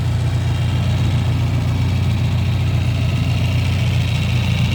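Engine of a 1993 Suzuki Katana GX (Jimny) idling smoothly, a steady low rumbling drone heard up close and loud with no talk over it.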